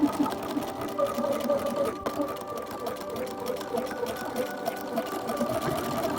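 A sewing machine runs continuously, stitching along fabric seams with a fast, even mechanical whir and rattle at moderate volume, with a brief dip near the two-second mark.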